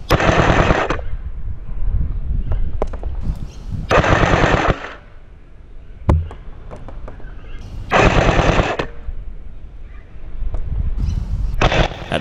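M4 V12 gel blaster firing on full auto at targets 40 meters away, in three or four loud, rapid bursts of about a second each, with quiet gaps between them.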